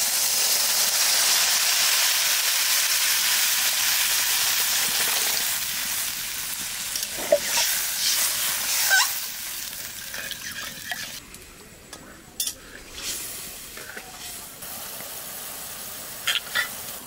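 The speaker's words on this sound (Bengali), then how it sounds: "এবার জল দিয়ে দেবো।" Water tipped into a pan of sizzling fried spices while cooking fish curry, a loud steady hiss and sizzle that settles into softer bubbling with occasional clinks and stirring scrapes.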